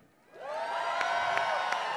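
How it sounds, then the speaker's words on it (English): A large crowd at a gathering for President Donald Trump breaks into loud sustained cheering and shouting, rising quickly and holding as a dense roar with a few sharp whoops and claps. "I had to stop because they were cheering"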